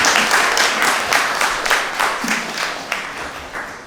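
A lecture audience claps after a talk on the Champa kingdom and the maritime Silk Road, producing a fairly loud burst of applause with regular pulses that slowly fades toward the end.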